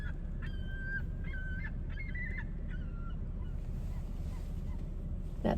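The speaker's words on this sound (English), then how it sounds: "Oh, you hear the seagulls." Gulls calling in a series of repeated honking cries against a constant low rumble of wind or surf, fading after about three seconds.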